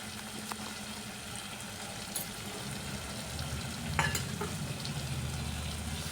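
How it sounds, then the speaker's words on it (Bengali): Potatoes, lightly parboiled, stir-fried with salt and spices in a pan for a breakfast besan aloo dish, giving a soft continuous sizzle with a few scraping stirs and a low hum beneath. "লবণ দিয়ে আরও কিছুক্ষণ আলুটাকে আমি মশলার সাথে কষিয়ে নিচ্ছি।"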